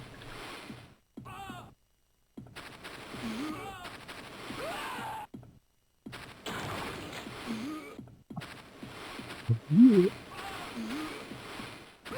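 Gunfire in the Amiga game Gloom Deluxe, played on an A2000 040, comes as repeated bursts of shots broken by brief silent cuts, with game sounds and a voice talking over them.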